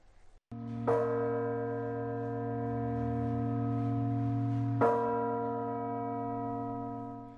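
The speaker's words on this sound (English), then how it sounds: "Church bells ringing a total of 27 times" Two deep church bell strikes, part of a 27-toll memorial for a police officer killed in the line of duty, each ringing out with a long, sustained humming resonance that blends into the next toll.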